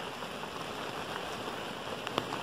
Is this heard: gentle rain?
yes